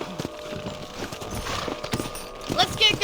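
Horse hooves clip-clop in a steady rhythm on hard ground, close by, with a brief whinny toward the end.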